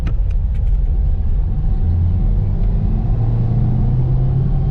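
A Renault Trafic van pulls away in second gear, its engine a loud, close, steady low rumble with a slight rise in pitch as it gathers speed, and no voices over it.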